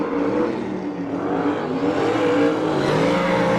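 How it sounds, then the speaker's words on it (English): A loud, steady stock car engine roar with rising and falling pitch as it accelerates through the turns on a race track, continuous and close throughout. "listen to that motor roar as he plants the weight on the right rear tire"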